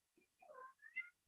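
A cat meows once, a short rising and falling call, faint and close in an otherwise quiet room.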